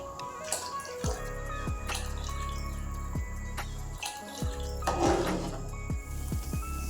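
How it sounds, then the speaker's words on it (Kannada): Used cooking pots and utensils being rinsed under a running kitchen tap, with steady water flow and repeated clanks and knocks of metal vessels, close and fairly loud, with no talk. "ಯೂಸ್ ಮಾಡಿರೋ ಸ್ವಲ್ಪ ಪಾತ್ರೆಗಳೆಲ್ಲ ಇತ್ತು ಹಂಗೆ ಅದನ್ನು ವಾಶ್ ಮಾಡ್ಕೊತಾ ಇದ್ದೀನಿ"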